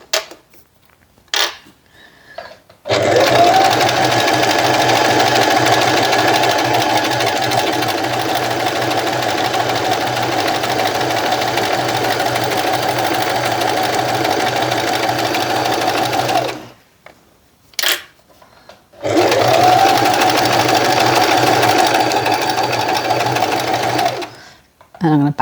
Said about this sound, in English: I'm going to do a back stitch and I'm going to work my way all the way down that line